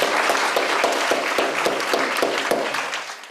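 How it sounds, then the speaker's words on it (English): Audience applause for a panel at a plenary session of an international forum on migration statistics, a steady dense clapping from a large hall that holds evenly and then begins to fade at the end. "So if you don't mind just joining me in a big applause for the excellent panel"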